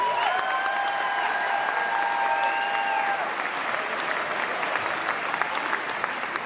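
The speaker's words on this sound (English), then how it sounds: "Please give them a round of applause." Applause from a school district audience at an opening session for teachers and staff, sustained broad clapping that fills the room evenly, with a few faint voices and whoops mixed into the dense, steady crowd noise.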